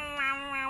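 A cat in a GTA roleplay game lets out a single short, clear meow, close and fairly loud.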